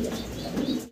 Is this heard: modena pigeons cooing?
yes